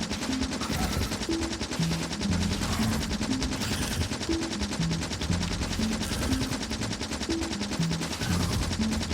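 Rapid, steady gunfire in Factorio, a continuous rattle of shots lasting the whole stretch at an even moderate level, with no talking.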